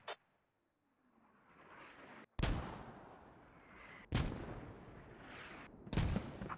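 Mortar rounds land in a military video game as three heavy, booming blasts spaced a couple of seconds apart, each trailing off into a long rumbling echo, after a brief sharp report at the start.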